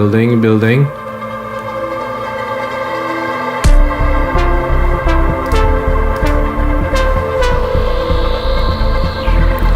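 A melodic breaks synth build with filter and reverb-send automation, the filter sweeping and reverb swelling, dense tonal layers and pulsing bass rising in intensity, with sharp transient hits throughout.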